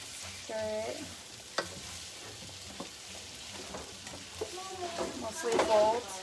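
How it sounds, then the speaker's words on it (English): Tamale filling of rajas and cheese sizzling in a pan as a spoon stirs it, soft frying crackle and scraping under someone talking nearby. "Starting to sizzle now."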